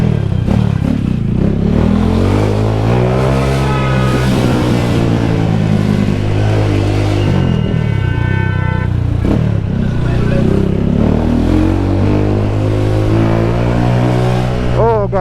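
A motorcycle with a light front end rides through traffic in Jamaica, its engine loud and close, revving and rising and falling in pitch through gear changes, with wind rush and occasional speech.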